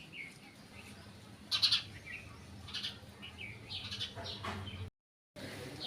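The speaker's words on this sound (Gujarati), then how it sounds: "તો ચકલી આવી છે" Sparrows chirp near their nest in brief bright bursts, a few close calls standing out over steady background noise, with a short dropout near the end.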